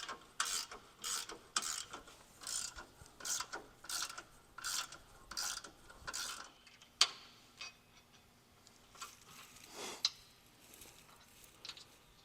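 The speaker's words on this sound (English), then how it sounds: "I'm going to continue tightening this 1/2-inch bolt until our lower hole lines up" Hand ratchet tightening a 1/2-inch bolt on a third-gen Toyota Tacoma crossmember: a run of rhythmic clicking strokes, close and moderately loud, slowing and thinning out toward the end with a few scattered clicks.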